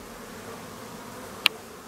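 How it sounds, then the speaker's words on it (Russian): Honeybees buzz softly in flight near a working hive on a warm June day in Siberia, a faint steady drone broken by one sharp click. "Смотри, пчелки летают"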